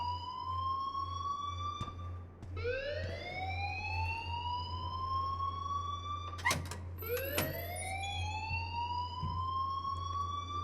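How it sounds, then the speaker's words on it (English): A whooping electronic alarm blares in a school scene of the video game Life Is Strange Remastered, rising tones repeating every few seconds over a steady low drone, with sharp clicks between. "please turn off that alarm"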